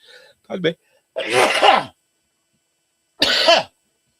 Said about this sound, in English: that's why I'm sneezing